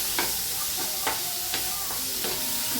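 Boiled green chickpeas are stir-fried in a hot pan. A loud, continuous hiss of frying is punctuated by about five spatula strokes at a steady pace, close up.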